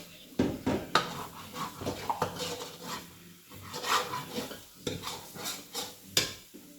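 Spice paste is roasted and stirred in a silver steel kadhai, with repeated close scraping and rubbing strokes of a spoon against the metal in an irregular rhythm and a faint sizzle underneath.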